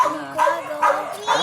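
A puppy gives three short, high yelping barks in quick succession, loud and close, with speech-like overlap around them.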